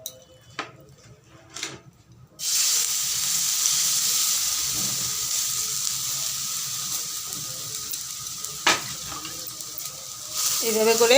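Water is sprinkled by hand over paratha dough in a pan. After a few soft taps, a loud, close sizzle bursts up and holds steadily to the end.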